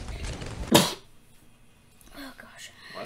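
A single sharp sneeze bursts out midway, preceded by soft murmured voice and followed by quiet room tone and faint speech.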